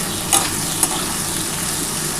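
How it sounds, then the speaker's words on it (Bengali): Ghugni spice mix fries with onions in a pan, a loud continuous sizzle with two quick clinks of a stirring spoon early on and no voices. "পেঁয়াজের সাথে একটুখানি হালকা করে ভাজার পর আমি কিছু টমেটো দিয়ে দেবো"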